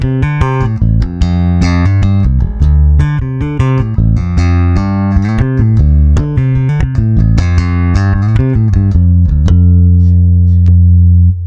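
G&L bass guitar with its pickups switched to parallel plays a busy run of plucked notes, deep and punchy with clear upper harmonics, ending on a long held low note, loud and alone.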